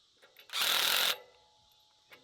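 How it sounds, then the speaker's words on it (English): A ratcheting wrench or power driver tightening the chain on a Woodland Mills HM 130 Max sawmill trailer: one loud, close half-second burst of rapid mechanical clatter, set against quiet surroundings. "whenever you run it until it goes pop, pop, pop, and then you stop"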